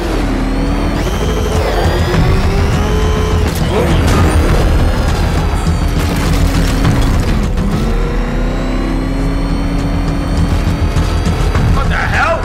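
Batmobile from Batman Arkham Knight roaring in, a loud sustained engine whir and rumble with mechanical booms and crashes, game score and voices talking over it throughout.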